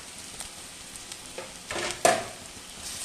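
Crushed ginger and garlic frying in a pan for a paneer curry, a soft steady sizzle with a few sharper crackles and a brief louder spatter near the end, no talking.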